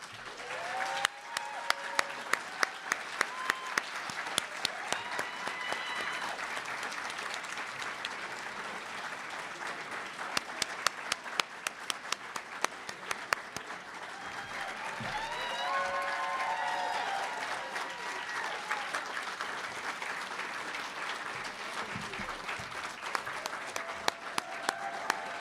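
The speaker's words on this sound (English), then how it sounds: "Please give them a round of applause as they join us." An audience at a 2024 graduation ceremony applauds the graduating class with sustained, dense clapping from a large crowd, steady throughout with brief louder swells and occasional cheers.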